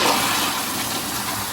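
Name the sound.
manual toilet flush valve flushing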